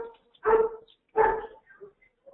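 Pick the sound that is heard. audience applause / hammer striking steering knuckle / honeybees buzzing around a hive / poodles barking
poodles barking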